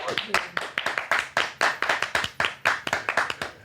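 Hands clap in a quick, steady run of sharp, close claps, with voices alongside.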